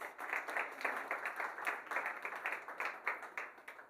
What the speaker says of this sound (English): Let's give them another hand of applause, please.